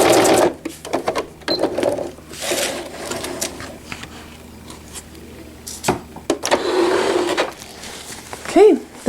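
A sewing machine stitches velcro onto a cloth diaper in short, loud mechanical bursts separated by pauses, with a voice talking in between.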